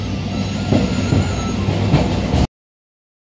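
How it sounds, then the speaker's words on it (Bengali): A train rolls along at an unhurried pace, its low steady rumble and soft wheel clatter filling the clip before cutting abruptly to silence. "কি আস্তে আস্তে যাচ্ছে না ট্রেনটা"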